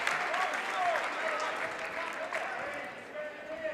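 A crowd at a boys high school basketball game between Durfee and Brockton claps in steady, moderately distant applause, while a commentator talks over it.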